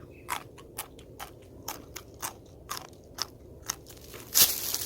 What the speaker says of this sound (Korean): 제가 하나 이렇게 먹어보도록 하겠습니다